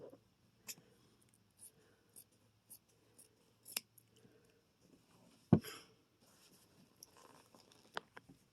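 Scissors snip through a piece of fabric during a sewing project, giving a handful of quiet, scattered cuts with one louder snap partway through, close and otherwise near silent.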